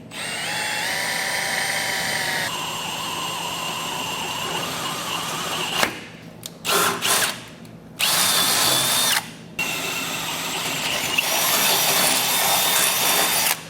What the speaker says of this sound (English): we're going to drill out both of those openings